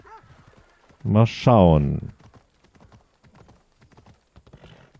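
A horse's hooves clip-clop steadily at moderate distance while riding in Assassin's Creed Odyssey, partly under a short stretch of speech.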